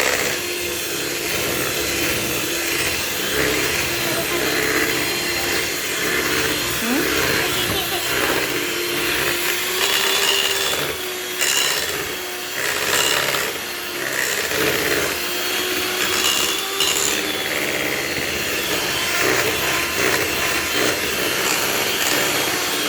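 An electric mixer whisks cake batter with eggs in a steady, loud whirring drone that runs throughout, with a brief dip partway. A voice talks over the motor at times.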